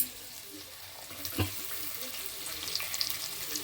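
Carrots and beans go into a hot pan for vangibath, giving a faint, continuous frying sizzle with a soft thump and clatter as the vegetables land and are stirred.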